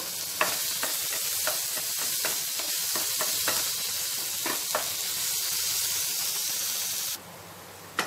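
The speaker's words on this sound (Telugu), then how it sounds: "ఈ టమాటోను కూడా కొద్దిసేపు మగ్గించుకుందామండి." Tomatoes sautéing with salt in a pan for a mint-tomato chutney, a steady close sizzle with repeated scraping stir strokes, ending abruptly in a quieter hiss near the end.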